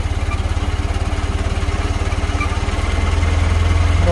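Small engine running after a choked start, a loud rapid chugging putter with an even pulsing beat, close by, the tone firming up slightly toward the end, no talk over it.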